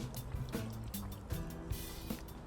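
Water is poured a little at a time into a pot of spicy Jamaican curry goat with Scotch bonnet peppers, giving a steady, close trickling and splashing that runs through the whole stretch.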